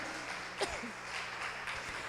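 Church congregation applauding during a family worship service, a steady, dense wash of clapping from many hands that holds evenly throughout, with murmured voices mixed in.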